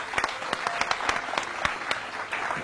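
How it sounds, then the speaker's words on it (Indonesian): Applause for Ibu Mimi, a guest with a thyroid gland lump, at an Indonesian talk show, from a small audience: a steady patter of claps with a few sharp louder claps standing out, with no talk. "tepuk tangan dulu untuk Ibu Mimi"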